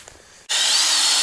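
A Ryobi battery impact driver kicks on abruptly after a short quiet lead-in, then runs as a loud, steady, high-pitched whir held close to the microphone.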